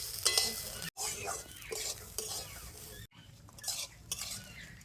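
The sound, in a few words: rice lightly frying in ghee for kanika bhog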